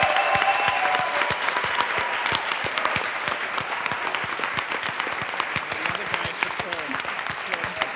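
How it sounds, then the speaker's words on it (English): Sustained audience applause at a live final event, a dense, steady wash of many hands clapping close and loud for the full stretch with no pauses. "maybe we can have a little bit of applause for those guys"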